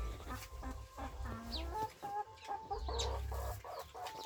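Laying hens in a simple backyard coop cluck continuously at close range, with irregular overlapping calls and a few higher squawks over a steady low farmyard rumble.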